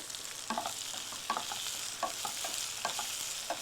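Onions frying in a pan for a Tamil-style potato and sesame fry give a steady sizzle, with a spoon scraping and stirring about every second in soft, close strokes.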